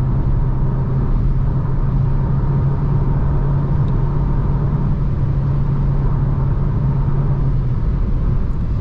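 A 2024 Renault Clio E-Tech Hybrid 143 HP accelerates at full throttle at night. From inside the cabin comes a loud, steady engine and road rumble with no voices.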